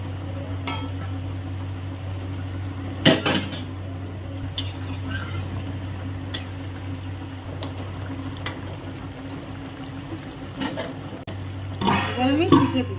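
Chicken kurma cooking in a pot, a low steady simmer with occasional clinks and scrapes of a spoon against metal, and a voice talking over it at times.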